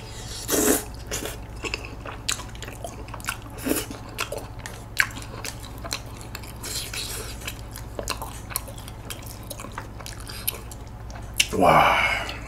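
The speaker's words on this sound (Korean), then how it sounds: "제가 쩝쩝이 좀 살짝 나올 수가 있어요" Wet, soft chewing and lip-smacking sounds of eating cheese tteokbokki and corn dogs come in scattered bursts, close to the mic, with a louder crunchy burst near the end.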